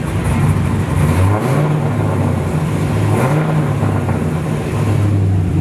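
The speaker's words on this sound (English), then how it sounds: "that's a great noise for an RX8" A loud, deep LS V8 engine swapped into a Mazda RX8 running continuously with rising revs and a throaty exhaust rumble, close by, with no talking.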